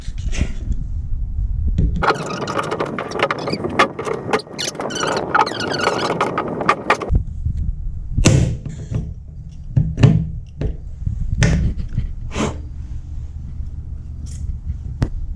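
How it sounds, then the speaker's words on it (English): Pneumatic rivet gun setting rivets into the hull of a Pelican kayak during rigging work, a dense burst of rapid mechanical hammering for several seconds followed by a series of separate sharp clacks and pops spaced out, fairly close. "It's rivet gun time"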